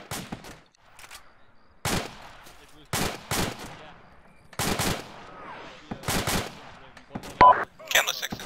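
Bursts of gunfire erupt from a military compound in a military simulation game, several sharp volleys spaced across the stretch, some fairly loud and close, with radio-style voices talking between them.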